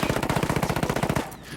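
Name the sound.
assault rifle gunfire with shorter barrel, video game Ghost Recon Wildlands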